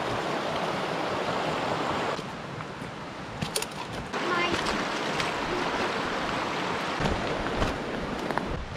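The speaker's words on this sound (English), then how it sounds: "There's little waterfalls everywhere." Small backcountry waterfalls and a flowing stream make a steady, close rush of splashing water that fills the clip without pause.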